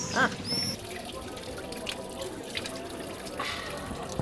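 Steady running water from a tap, a continuous broadband rush with a brief higher tone near the start.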